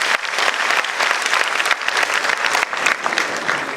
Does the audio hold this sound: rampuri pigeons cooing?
no